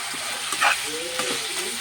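Potatoes frying in a pan for a drumstick, potato, brinjal and tomato gravy curry: a close, steady sizzle with a brief stir scrape and faint stirring, no talk.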